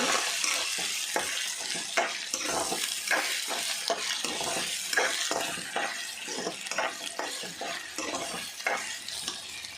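Onion and ginger-garlic paste fry in a pan with a steady sizzle, broken by repeated scraping strokes of a spoon stirring, close and fairly loud with no talking.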